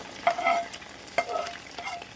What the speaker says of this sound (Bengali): আমি এটা ভালো করে ভেজে নিচ্ছি।